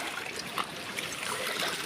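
Shallow stream water at a village creek trickles and babbles softly, a faint, continuous gurgle with small splashes scattered through it.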